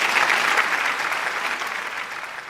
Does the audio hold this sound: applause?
yes